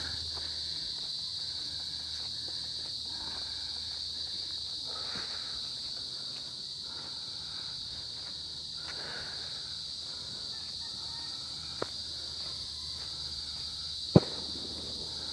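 Crickets chirp in a steady high-pitched drone along a mountain trail to Mt. Buntis in Maragondon, Cavite, with a couple of faint footstep-like clicks near the end and no talking.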